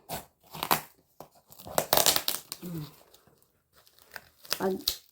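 Cardboard box torn open by hand, giving bursts of crinkling, ripping and crunching cardboard up close, mixed with a person talking in between.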